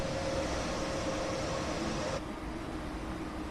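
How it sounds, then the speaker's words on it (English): Passing train hauling loaded cars, a loud continuous roar and rushing rumble with a steady high whine that abruptly drops away partway through, leaving a slightly softer roar, with no talk. "that train makes sounds like it is literally going to blast away"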